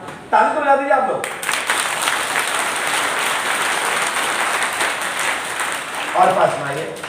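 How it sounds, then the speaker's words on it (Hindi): Steady crowd applause at a religious gathering of Pandokhar Sarkar devotees, a sustained wash of many hands clapping at a moderate distance, with a voice speaking briefly at the start and again near the end. "ताली तो बजा दीजिए आप लोग"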